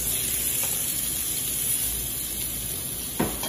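A frozen potato pancake frying in a lightly oiled cast iron pan, giving a constant, close, bright sizzle throughout, with one soft knock near the end.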